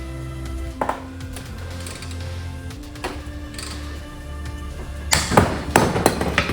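A few sharp metallic hammer strikes ring out, sparse at first, then a cluster of harder blows near the end, as a worn front suspension part from a 1967 Cadillac is hammered off in a vise.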